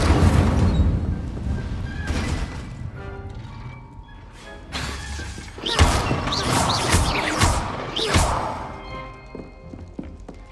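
Leviosa and Incendio spells are cast in the Hogwarts Legacy video game, producing dense layered magic whooshes, crackling bursts, crashes and thuds over a busy in-game soundscape.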